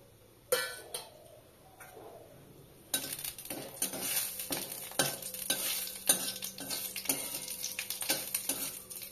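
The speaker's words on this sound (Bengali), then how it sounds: "এবার আমি এলাচ, দারুচিনি, লবঙ্গ এবং তেজপাতা ফোড়ন দিয়ে দিলাম।" Cardamom, cinnamon, cloves and bay leaf crackle as they are tempered in a couple of spoons of hot oil. The close sizzle is joined by repeated clinks and scrapes of a spoon stirring in the pan.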